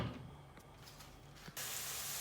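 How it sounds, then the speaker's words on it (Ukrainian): Onion tossed into hot oil in a pan: quiet, soft frying hiss that suddenly swells into a loud, steady sizzle partway through, with no voices. "налили олії і кинули нашу цибулю"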